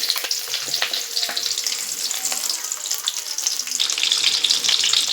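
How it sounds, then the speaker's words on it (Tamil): Shallots sizzle and crackle steadily in hot oil with black pepper, cumin and garlic, a dense continuous frying hiss, close and loud, with faint stirring and a trickle of water in the background. "பாருங்கள், நல்லா வெங்காயம் வதங்கட்டும்."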